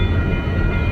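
An eastbound Union Pacific manifest freight train rumbles past at close range in a rail yard near a crew hut and co-op, a steady low roar with a sustained high whine above it and no voices.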